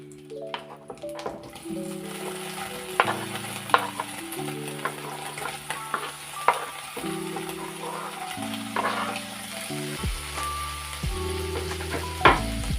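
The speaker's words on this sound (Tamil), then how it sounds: "பன்னீர் பட்டர் மசாலாவுக்கு முதல்ல இந்த பன்னீரை நம்ம டோஸ்ட் பண்ணிக்கலாம்" Paneer cubes toast in butter in a pan, sizzling steadily with repeated stirring scrapes and clinks. Light background music plays throughout.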